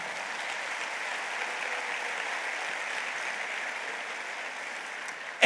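A church congregation applauding during a Spanish-language service, a steady, fairly distant wash of clapping that holds evenly throughout.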